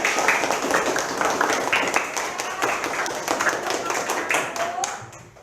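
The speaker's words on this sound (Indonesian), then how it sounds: "Berikan tepuk tangan untuk kelompok 1." A classroom of students claps for a discussion group, quick individual claps blending into brisk applause that gradually thins out toward the end, with some voices mixed in.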